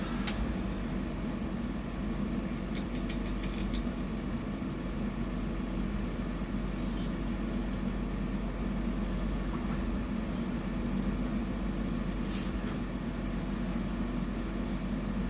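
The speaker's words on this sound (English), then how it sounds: "I might change over to the other airbrush" An airbrush sprays paint onto a bibless fishing lure, a steady hiss running continuously for about fifteen seconds with faint clicks and small bursts on top, with no talking.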